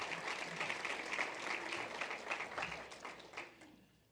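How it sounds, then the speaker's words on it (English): A brief round of applause from the audience at an annual membership meeting, moderately faint and steady before fading out at the end. "we'll give them a general round of applause"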